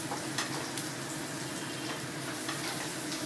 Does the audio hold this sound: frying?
yes